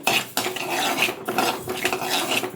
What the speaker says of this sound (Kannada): ನೆಕ್ಸ್ಟ್ ಇದಕ್ಕೆ ಈ ಮಿಲೆಟ್ಸ್ ಹಾಕೋತಾ ಇದ್ದೀನಿ ಅದು ಪಾತ್ರೆ ಕಾದಿರೋದಿತ್ತ